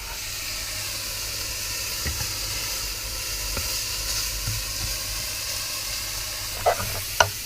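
Bacon frying in a pan, a steady close sizzle and hiss of fat throughout, with a few faint clinks and taps near the end and no talking.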